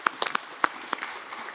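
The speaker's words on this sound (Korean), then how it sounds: "박수 한번 쳐야 되겠어요" Brief scattered hand claps from a small group at a Korean government central-local cooperation meeting, a few sharp separate claps over a quiet room rather than sustained applause.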